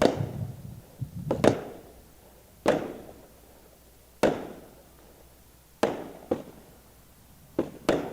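A Raging Willow firework going off outdoors at a fireworks dealer show, with five or six sharp distant bursts spaced about a second and a half apart, each fading into a short crackling tail.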